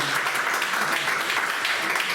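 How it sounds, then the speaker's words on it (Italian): Steady crowd applause fills the whole stretch, a dense wash of many hands clapping at moderate loudness with no pauses. "Un applauso a Pierino"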